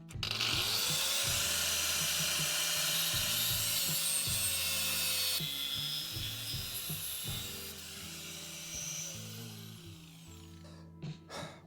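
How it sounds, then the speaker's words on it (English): An angle grinder cuts through a stripped bolt on a Citroën Picasso suspension control arm, whining with a steady high pitch that dips and recovers under load, then spins down near the end. "So I'm about to just have to grind it off."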